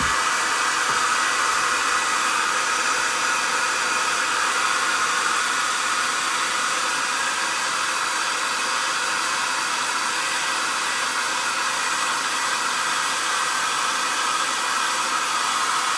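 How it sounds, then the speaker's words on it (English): A hair dryer blows continuously on a mixed media journal cover, a loud, steady rushing whir held evenly from start to finish with no talking. "blow dry so it doesn't smear"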